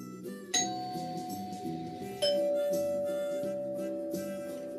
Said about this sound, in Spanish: sonó el timbre de su puerta.